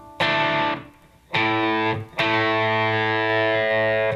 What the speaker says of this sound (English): I got some distortion.